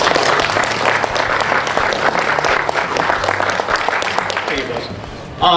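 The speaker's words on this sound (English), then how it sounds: "how about a round of applause for her?" Steady, dense applause from a gathered crowd at a community birthday celebration and lens relighting in Harbor Beach, holding loud and even for about five seconds before tapering off, with some voices mixed in.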